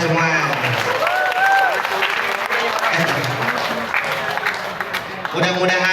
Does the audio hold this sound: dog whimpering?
no